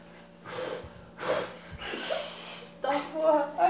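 A person blows hard in repeated forceful bursts at a deck of cards balanced on a cup, four or so close, breathy gusts with short pauses between them.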